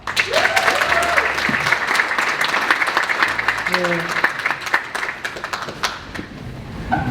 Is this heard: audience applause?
yes